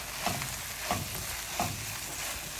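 Food stirred in a frying pan, a dense steady sizzle with three soft scraping strokes spaced evenly apart.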